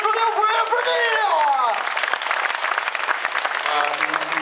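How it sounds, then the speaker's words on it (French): Audience applause at a 2015 rally prize-giving podium in Orthez, steady dense clapping throughout with a voice calling out briefly over it at the start. "vous pouvez les applaudir"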